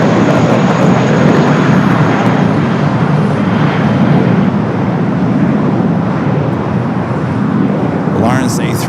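An Airbus A320 jet taking off at Los Angeles airport, a steady broad engine roar heard from a distance throughout, with a voice briefly audible over it near the end.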